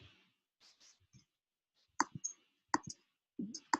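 A computer mouse clicks a handful of times, crisp and close, with quiet gaps between, while someone sets up an email marketing workflow on a computer.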